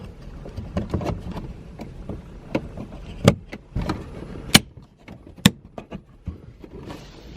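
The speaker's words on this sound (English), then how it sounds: "You just heard it clip into place" A few sharp plastic clicks and snaps stand out over soft handling and rustling noises, close by, with one crisp click near the middle as a part clips into place in a Saab 9-3 Arc.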